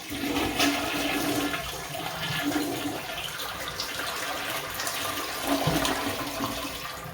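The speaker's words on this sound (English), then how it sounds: "When you go ahead and flush the toilet," A toilet flushes with a loud rushing gurgle, then the tank refills in a steady running hiss, close by and continuous with no talking.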